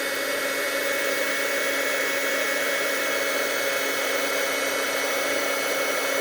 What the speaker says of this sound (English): Then I'm going to bring the heat tool in.